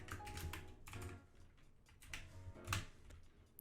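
Java code typed on a computer keyboard: bursts of quick, soft, close key clicks in an uneven rhythm, fairly quiet.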